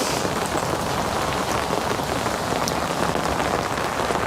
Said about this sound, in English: But right now it's raining for sure.